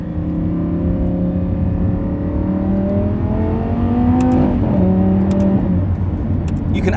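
A Lamborghini accelerates under load on an open road in sport mode, its engine note climbing steadily before a quick gear change drops the pitch partway through. The sound is loud and close.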